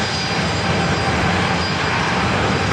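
An American Airlines plane taking off from runway 27 at San Diego airport, a loud steady roar of jet engines heard close and continuous with no talk.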